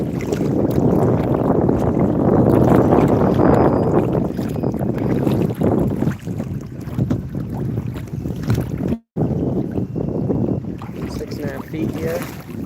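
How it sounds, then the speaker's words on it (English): A kayak paddled across a lake on a fishing outing, with steady water wash and heavy wind buffeting the microphone throughout, broken by one brief dropout. "Alright, let's paddle into a better zone."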